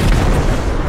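A loud, low booming blast from an explosion in the video game Content Warning, dense and rumbling across a single short burst with no talk over it.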